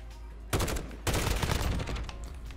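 Rapid bursts of automatic gunfire from the Modern Warfare Gunfight mode, loud and dense, starting after a brief lull and then firing again in a longer sustained volley.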